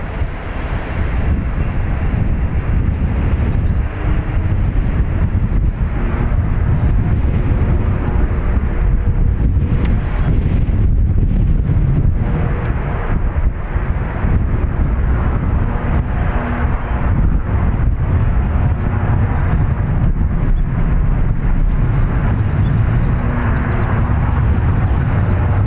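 Ryanair jet taking off from runway 2 right at Dublin Airport in gusty wind, a steady loud roar with heavy wind buffeting on the microphone throughout, no voices.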